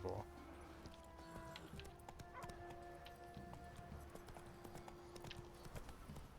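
Hoofbeats of Roach, the horse in The Witcher 3, clopping at a walk beneath game music and low voices, faint and fairly steady.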